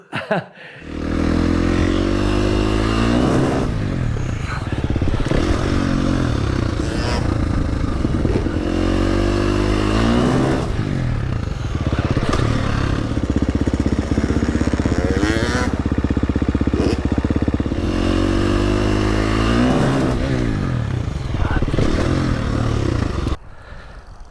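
A freestyle motocross motorcycle engine runs loud and close by a jump ramp for the whole stretch, its rumble rising and falling as it revs, with some clattering mixed in.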